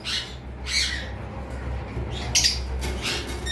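A breeding pair of double factor pineapple conure parrots gives several sharp, shrill squawks in irregular bursts over a low, steady background hum.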